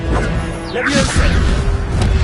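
Levioso levitation spell cast in Hogwarts Legacy: a rising magical whoosh with a sharp thwack, followed by a second swishing cast, loud over dense game ambience.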